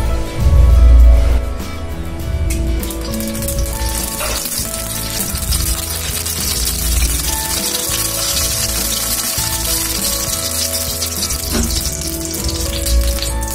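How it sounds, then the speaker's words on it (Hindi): Oil hisses and sizzles in a hot pan on a gas stove, a constant crackling fry that starts with a louder burst and then settles into a steady sizzle. "अब इसमें हम ऑयल डालेंगे।"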